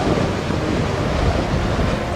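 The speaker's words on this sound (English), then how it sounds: "Ian's just been hit by a heavy gust of wind" A heavy gust of wind batters an exposed high-altitude pass in Torres del Paine, a loud continuous buffeting roar across the microphone that holds steady throughout with no one talking.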